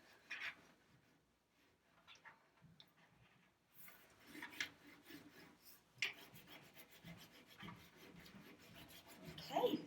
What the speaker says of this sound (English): So I'm going to rub it on my crown, and that's how I'm going to color it.